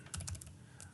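Short, quiet burst of typing on a computer keyboard, a handful of light key clicks in quick succession followed by one more tap.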